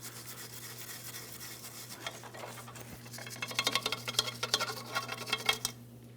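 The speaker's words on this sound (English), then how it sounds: "I'm just going to use a wire brush." Wire brush scrubbing the ball joint mounting area on a 2007-2014 GMC Sierra 2500 HD. A low hum comes first, then quick, rough scratching strokes build up in the second half.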